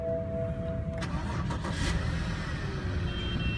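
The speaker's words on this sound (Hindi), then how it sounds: "गाड़ी को मैं स्टार्ट करता हूँ।" A 2004 BMW 5 Series with a 3.0 L petrol engine cranks and catches around the one-second mark, followed by a brief burst and a settling idle rumble, heard close with no talking.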